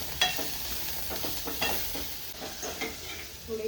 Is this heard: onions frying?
yes